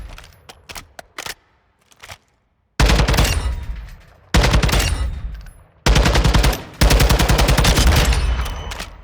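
An assault rifle in Call of Duty: Modern Warfare II fires loud, close bursts. A few single shots come first, then long rapid strings of automatic fire broken by short pauses, with no talk over them.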